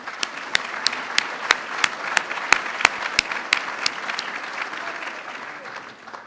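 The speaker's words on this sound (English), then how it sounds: "Let's give them a round of applause." Audience at a César E. Chávez Excellence Awards and Scholarship ceremony applauding, with steady clapping under a run of sharp, evenly spaced loud claps close by, fading slightly toward the end.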